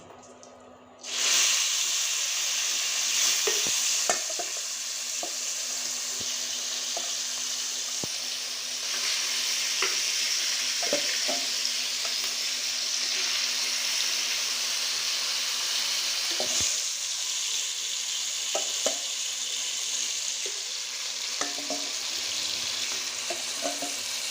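Chicken pieces fry in a pan for a chicken curry with potatoes, a loud continuous sizzle that starts abruptly and holds for the whole stretch, punctuated by occasional soft clicks and scrapes of stirring.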